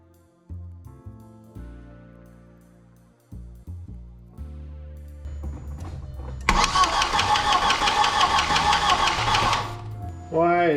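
A cold 1.8T car engine cranks with several slow, labored turnovers before catching into a loud, steady running rumble, close and clear.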